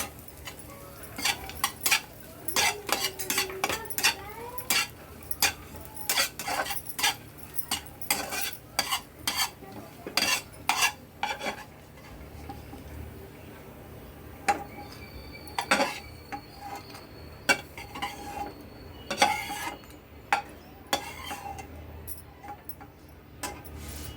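A spoon scrapes and clatters rhythmically in a kadhai as ragi ladoo ingredients and almonds fry, bursts of stirring with pauses and a soft sizzle underneath, close and fairly loud.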